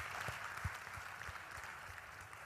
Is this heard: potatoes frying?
no